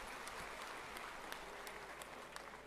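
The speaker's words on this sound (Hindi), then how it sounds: "आप सबसे निवेदन करता हूं कि मातृशक्ति के सम्मान में जोरदार ताली बजाकर मातृशक्ति का सम्मान करें।" Audience applause honoring women at a public gathering addressed by a speaker, a steady, moderately faint wash of clapping with scattered sharper claps throughout.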